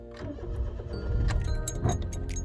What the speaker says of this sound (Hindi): गाड़ी को मैंने स्टार्ट कर दिया नॉर्मल।